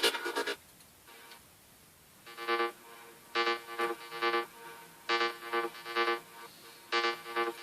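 A synthesized bass line plays in short rhythmic pulses, evenly spaced notes repeating at a moderate level with brief gaps between.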